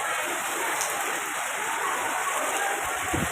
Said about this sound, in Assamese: সৰস্বতী পূজাত এয়া একদম ধাৰাসাৰ বৰষুণ